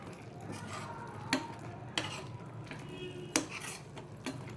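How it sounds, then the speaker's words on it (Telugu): Carrot pulp being fried in ghee in a pan, with a soft low sizzle beneath repeated sharp clinks and scrapes of a spoon stirring against the metal. "మళ్ళా మనము ఈ క్యారెట్ పల్పు అదే నెయ్యిలోనే వేయించుకోవాలి."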